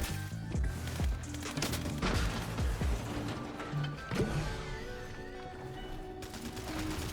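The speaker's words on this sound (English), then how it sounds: "there's multiple people shooting" Gunfire from several players in Fortnite crackles in rapid bursts and scattered single shots, some close and sharp, others farther off, overlapping in a busy firefight with no talking.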